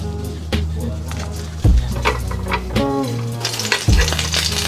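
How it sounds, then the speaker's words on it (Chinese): Shrimp paste rolls wrapped in seaweed pan-frying in oil, with soft sizzling under repeated scraping and stirring clinks of a spatula against the pan, close and moderately loud. "煎的时候搓一搓，变硬了就可以出锅了。"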